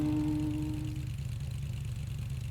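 Car engine in the Roblox game Jailbreak during a test drive, a low steady hum with a brief tonal whine at the start that fades, constant and moderately loud.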